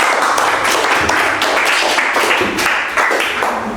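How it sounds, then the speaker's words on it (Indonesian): Classroom applause from a group of students, a dense continuous patter of clapping at steady volume throughout, with some murmuring mixed in. "Tepuk tangannya."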